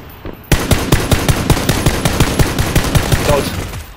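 Rapid bursts of automatic gunfire from a PUBG battle erupt close and loud after a brief quiet start, sharp shots in a fast, slightly uneven rhythm.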